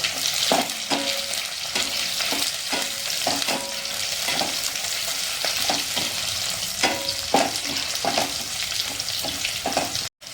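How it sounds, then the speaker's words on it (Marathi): Onion and green chili frying in a pan for Maharashtrian masale bhat, a steady close sizzle with repeated stirring scrapes throughout, no talking. "आपला कांदा छान असा मऊ होतो तोपर्यंत आपण त्याच्यामध्ये जी हिरवी मिरची घेतलेली आहे ही हिरवी मिरची घालून घेऊया"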